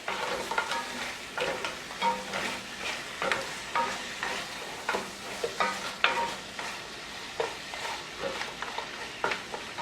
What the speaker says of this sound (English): a little bit, 1 medium tomato, just diced up. Give that another quick little stir.